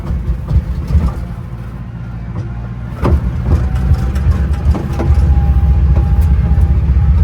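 A rusty, Bondo-filled Chevrolet Corvair, driven without brakes in second gear, runs with a loud rumbling engine close by, a low steady drone that rises in intensity with scattered knocks and rattles, and a faint whine on top.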